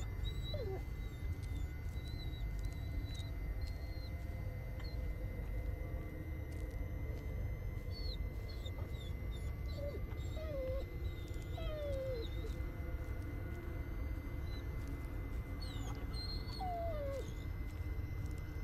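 A dog whimpers and yips in short, high, scattered cries over a low ambient rumble in the Blair Witch video game, the whines rising and falling quietly throughout.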